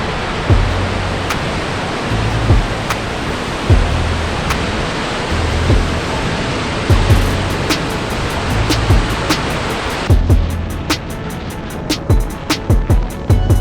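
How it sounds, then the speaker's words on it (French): Selfoss waterfall in Iceland roars as a broad, steady rush of falling water heard up close and loud, with a few sharp clicks scattered on top. "Quelques centaines de mètres en amont de Detifos, il y a une seconde cascade, Selfoss."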